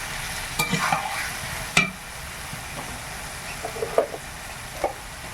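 Chicken meat frying in spiced oil, a steady close sizzle broken by a few sharp scraping stirs of a spoon against the pan.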